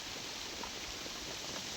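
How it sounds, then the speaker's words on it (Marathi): Heavy rain pouring down steadily, a dense even hiss with no other sounds. "मगापेक्षा आता जरा जास्त मोठा पाऊस आहे."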